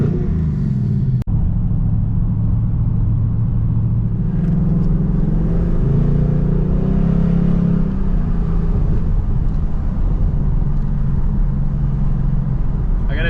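A Ford Mustang muscle car with 480 horsepower cruises along, its V8 engine a steady, loud, low rumble with rising and falling revs heard from inside, a brief click early on.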